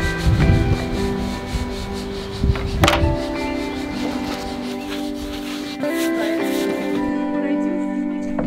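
Wood siding on a tiny home being sanded with a power sander, a steady whirring drone with scraping rubs that runs almost the whole time, briefly stopping and restarting.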